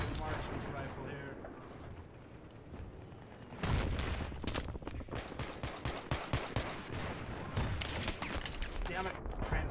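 In Battlefield 3, a designated marksman rifle fires in a solo match: first a quieter stretch, then a rapid, loud run of sharp shots and booming blasts, with someone talking over the gunfire.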